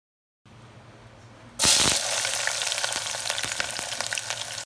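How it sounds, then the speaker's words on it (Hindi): Whole star anise, green cardamom, cinnamon and bay leaves drop into hot oil in a pressure cooker, bursting into a loud, steady sizzle that stays strong and crackling after a brief quieter start. "ऑयल गर्म होने के बाद बादियान के फूल, छोटी इलायची, दालचीनी और तेज़पात डालकर फ्राई कर लेते हैं"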